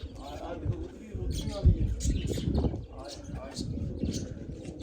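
Pigeons coo in a loft, low soft calls rising and falling in a steady run, with occasional chirps from several birds, fairly close, while someone talks over them throughout.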